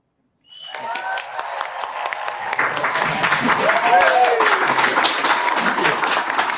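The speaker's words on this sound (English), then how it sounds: "I'll turn off the applause." Recorded crowd applause played through speakers during a user-group presentation, rising after a brief silence into sustained clapping and cheering with tonal whoops, while a voice speaks over it.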